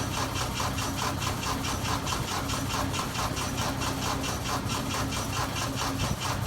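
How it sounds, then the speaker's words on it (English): A VW buggy's starter motor cranks the engine with a tired battery: a loud, steady, rhythmic whirring churn repeats evenly throughout without catching. "Let the starter cool down."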